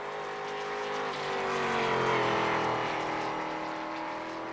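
A race car on the Watkins Glen road course during qualifying, running about 163 into turn 6, gives a steady, loud engine drone that swells as it nears and then eases slightly. No one speaks.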